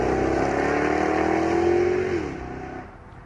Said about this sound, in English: which goes very well with the extra poke and that loud exhaust.